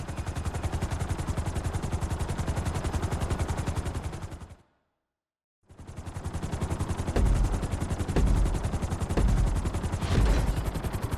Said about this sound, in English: we're going to put you in a helicopter for this lesson